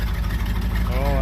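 Engine of a small car hauler truck with air brakes running with a steady low rumble up close, while a voice is heard briefly near the end.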